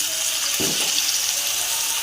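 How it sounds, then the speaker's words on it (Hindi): A little water is poured into a pan of frying chicken with tomato for mash dal, making a brief splashing gush over a loud, continuous close sizzle. "इसमें थोड़ा सा पानी डालेंगे"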